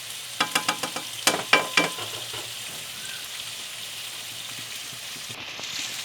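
Broccoli stir-frying in garlic oyster sauce in a wok, opening with a quick run of loud spatula clacks, then settling into a soft, even sizzle with no talking.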